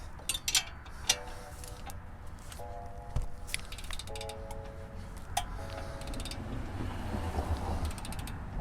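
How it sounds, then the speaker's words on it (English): Torque wrench tightening strut bolts on a 2007-2012 Nissan Altima, a series of close ratcheting clicks in short bursts with metallic creaks and faint clanks, over a low background rumble. "grab your torque wrench and tighten it down to 103 foot-pounds"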